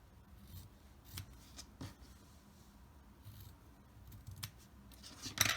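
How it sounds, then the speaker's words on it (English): Scissors snip fabric corners off a sewn octagon 3D filter pocket face mask, giving quiet, sharp, close cuts in irregular clusters with faint rustling of cloth between them and no talking. "Go ahead and cut off your corners."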